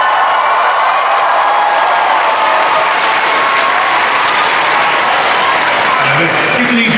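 A large Comic-Con panel crowd cheers and applauds Jesse Pinkman of Breaking Bad, a dense, loud, continuous wash of clapping and shouting that holds steady throughout.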